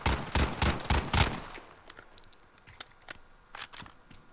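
Weapons fire in Call of Duty: Modern Warfare comes as a quick rapid burst of sharp, loud shots, then a few scattered, fainter cracks over low background noise.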